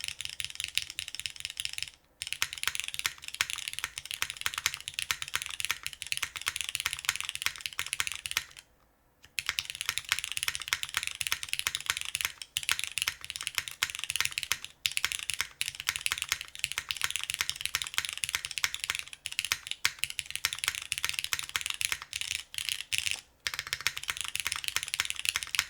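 Someone types fast and continuously on a Cloudnine mechanical keyboard with 70A Tadpole switches on a hot-swap PCB. The close keystrokes sound crisp and poppy, with a few brief pauses.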